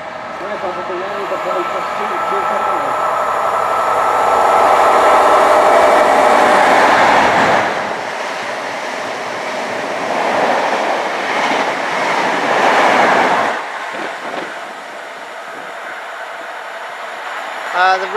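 A Great Western Railway passenger train roars past close by at Keynsham, its rumble and clattering wheels swelling, holding steady, then fading as it passes.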